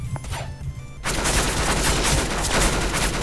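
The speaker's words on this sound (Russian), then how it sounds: "Это пулемет." A machine gun in the Roblox game Ragdoll Universe opens up after a quieter second, then fires a dense, rapid, unbroken stream of loud shots to the end.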